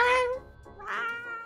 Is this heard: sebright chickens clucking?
no